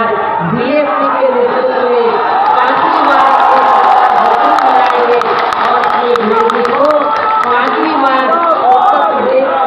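Large, dense crowd at a Bahujan Samaj Party election rally in Mirzapur, cheering and shouting in a steady loud roar that fills the whole stretch, with voices and chatter woven through it.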